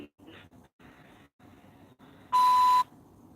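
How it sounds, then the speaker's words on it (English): A single steady electronic beep on a phone line, loud and held for about half a second, following a stretch of low, muffled voicemail speech. "So I got another beep."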